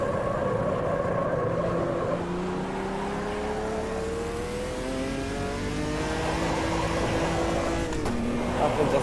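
A Chevrolet Omega racing car's engine in a driving game pulls in third gear, rising in pitch across several long, steady accelerations under a constant loud drone, with brief dips as the revs fall back.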